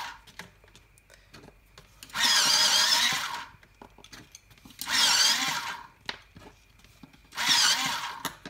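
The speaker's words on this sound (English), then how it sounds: "So I might just give these a bit of a sharpen" An electric pencil sharpener grinds Prismacolor colored pencils in three separate bursts of about a second each. The bursts are loud and harsh, with short quiet pauses between them and no talking.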